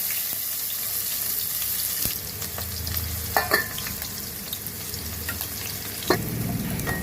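Chopped onion pieces fry in about four spoons of hot oil on a stove, making a steady close sizzle with a few clinks and stirring sounds, and no one talking.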